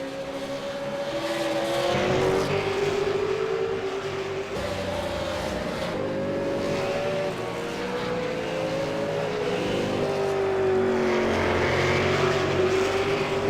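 V8 Supercar race car engines in the iRacing game, a steady loud engine drone with shifting pitch as cars accelerate and change gears, sustained throughout with layered engine tones.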